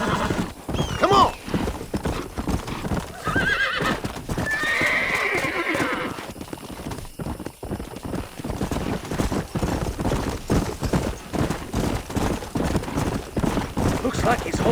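Horse hooves clip-clop steadily in Red Dead Redemption, with a horse neighing near the start, set in an outlaw western game; the galloping runs throughout under game music and other sounds, and a voice speaks over it.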